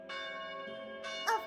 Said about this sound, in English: That's the sound of the church bell ringing.